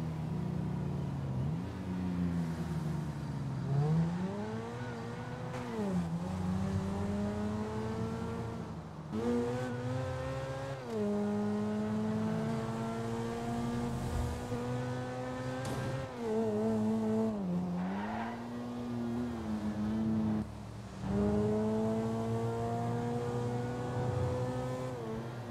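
A Ferrari F12 revs and drifts in GTA V, with rising and falling engine notes repeating through long sweeps. There are brief tire squeals, loud and continuous with no talking.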